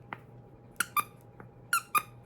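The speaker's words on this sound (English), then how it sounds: "I'm feeling to see if it has a squeaky in it." A squeaky pet toy is squeezed several times, giving short, high, bright squeaks in pairs against a quiet background, close by with no speech.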